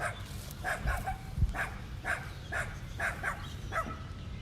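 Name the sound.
dog barking near tortoises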